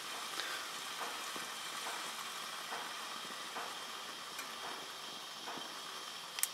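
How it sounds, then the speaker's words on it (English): Peppers, onions and garlic sizzle steadily in a pan, a constant broadband hiss with faint occasional pops and clicks, fairly quiet and with no talking. "Those delicious peppers, onions, and garlic are just roasting nicely."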